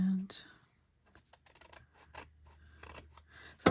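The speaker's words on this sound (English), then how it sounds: "I take my scissors and just trim up anything that's too wide." Scissors trim a paper envelope in a few short, quiet snips and rustles, close up in a quiet room.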